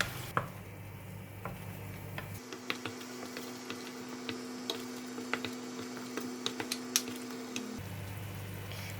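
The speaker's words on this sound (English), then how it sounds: "we're going to put in the blended ingredients. Give it a stir." Blended curry paste stirred in a pot with hot cooking oil for Malaysian chicken curry, soft irregular scraping and ticking taps over a constant low hum.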